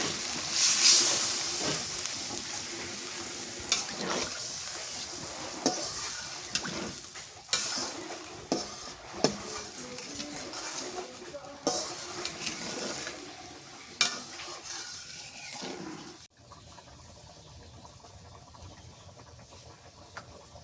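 Chicken curry sizzling and bubbling in a pan after water is added, a steady loud hiss with stirring clatters and scrapes throughout, dropping off sharply near the end.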